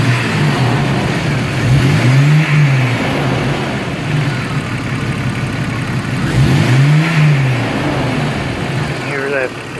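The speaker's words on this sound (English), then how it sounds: "hear that ZJ fan clutch." A Jeep Cherokee XJ engine fitted with a ZJ fan clutch revs up twice over a steady idling hum, with the whirring fan rising in pitch during each rev, close and loud.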